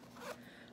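Zipper on the back wall pocket of a navy microfiber Vera Bradley bag, a single quiet pull rising in a brief swell near the start and then trailing off, alone with no talking.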